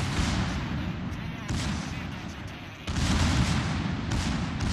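Naval guns on a New Orleans tier 8 cruiser fire high-explosive shells in World of Warships, producing dense, rumbling booms in rolling salvos with a fresh loud volley near the end.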